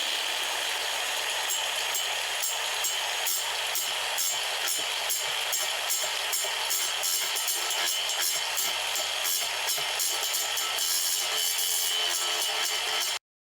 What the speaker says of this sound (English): I apologize for the grinder situation.